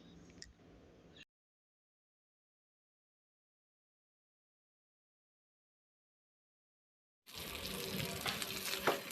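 Chicken pieces frying in a pan for Arabian chicken mandi biryani, a steady hissing sizzle that starts abruptly after a long silent gap, with a brief burst of frying sound at the very start.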